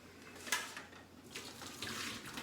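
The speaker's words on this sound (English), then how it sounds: "Run cold water." Cold tap water runs from a faucet over freshly boiled eggs in a sink, a soft, steady hiss and splash with one brief louder splash early on, quiet and close.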